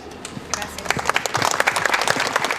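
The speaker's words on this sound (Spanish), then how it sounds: "Fuertes los aplausos." Wedding guests break into applause that swells quickly from quiet into dense, loud clapping and keeps building to the end, with crowd voices mixed in.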